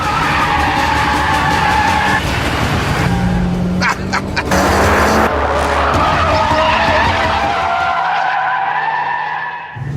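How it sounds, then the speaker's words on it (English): A Mitsubishi Lancer Evo FQ360 powers through a corner with all four wheels spinning. Loud, continuous tyre squeal and skidding ride over a strained engine roar for several seconds before easing off. "the engine in this FQ360 model is such a tower of power, it can keep all 4 wheels spinning endlessly"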